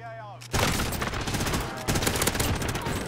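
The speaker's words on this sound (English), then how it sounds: "You're shooting someone else." Dense automatic gunfire from the video game Warzone, with rapid bursts crackling loudly and continuously after a brief pause, a short burst of voice at the very start.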